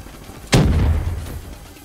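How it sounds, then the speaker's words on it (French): A grenade blast in the shooter game Call of Duty: Black Ops 3 lands as one sudden loud boom, followed by a low rumbling tail that fades over about a second, with no talk over it. "La grenade, elle était chaude."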